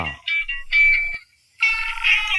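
Phone ringing in a bright, electronic, toy-like chirping pattern, two short bursts, a longer tone, a pause, then another burst, clear and close.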